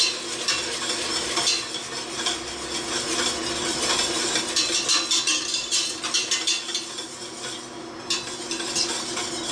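Pan being deglazed and stirred while making plant-based aromatic hot chocolate, with a steady sizzle under brisk scraping and clinking of a utensil against the pan, heard close up without talk.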